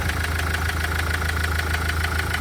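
A 2013 Mahindra Verito diesel car engine idles steadily and loudly, with a constant low rumble and a rapid, even knocking pulse.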